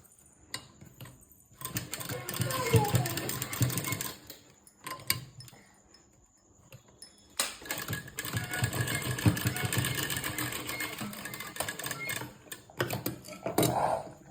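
A domestic sewing machine stitches blouse cloth in two long whirring runs separated by a quiet pause. The sound is close and moderately loud, with a few clicks and handling noises between the runs.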